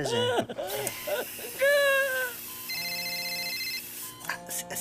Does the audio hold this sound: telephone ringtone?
yes